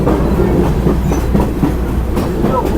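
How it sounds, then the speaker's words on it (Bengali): A train rolls through tea gardens in Sri Lanka's hill country between Nuwara Eliya and Ella, giving a loud, steady rumble with rhythmic clickety-clack of the wheels, heard close from on board and without talk. "দেখেন কত সুন্দর চা বাগানের ভিতর দিয়ে ট্রেন চলে যাচ্ছে"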